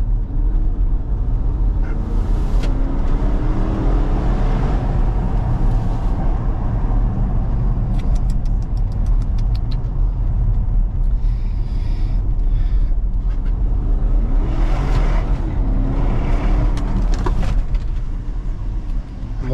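Porsche Cayenne Turbo S with a 4.0 V8 engine revving and accelerating loudly, a continuous roar rising and falling in several surges, with no talk.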